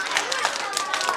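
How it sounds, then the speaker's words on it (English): A group of children clapping for themselves in a classroom, a short burst of scattered claps mixed with excited young voices. "Now give yourselves a big round of applause."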